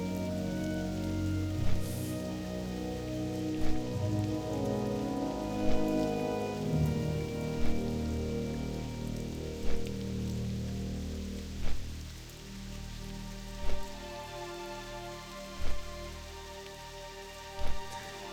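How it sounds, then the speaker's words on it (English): Steady rain falling in the video game World of Warcraft Classic, a continuous even patter with soft regular thumps under it and no talking. "Sometimes I forget that there's an actual weather system in this game. And then it starts raining or something"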